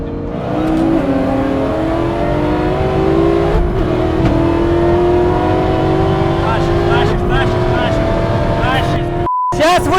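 An 850 hp Shelby GT500KR and a 700 hp Nissan GT-R accelerate hard in a race, engines loudly rising in pitch through gear changes from inside the car, with excited voices talking over the roar.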